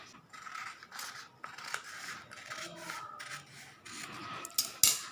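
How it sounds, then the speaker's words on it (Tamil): Scissors snip through a paper pattern for Aari embroidery in a series of soft, close crisp cuts and rustles, quiet and irregular, ending with a sharper click. "ஸோ இதை அப்படியே நம்ம கட் பண்ணி எடுத்துக்கலாம்"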